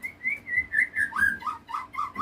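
A white-rumped shama sings a series of clear, whistled phrases, rising and falling notes repeated in quick succession, fairly close and alone.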